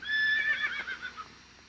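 A horse in the video game Farming Simulator 2017 gives a single brief whinny that starts loud and clear, then trails off quickly into silence.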